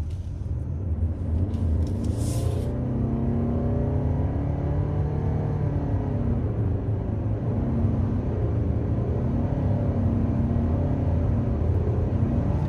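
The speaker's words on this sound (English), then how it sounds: "It's just this engine note." A 2023 Lexus RX350h hybrid SUV engine gives a steady low drone with rising and falling harmonic tones as the vehicle accelerates, continuous and close, over road rumble.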